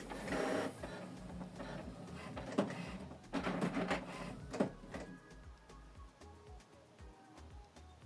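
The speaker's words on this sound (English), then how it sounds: "So the printer is now reset." An HP Smart Tank 5108 printer resets with a series of mechanical whirs, clunks and clicks in bursts, quieter toward the end.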